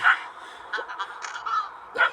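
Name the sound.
crow cawing in video game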